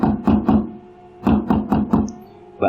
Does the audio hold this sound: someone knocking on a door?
yes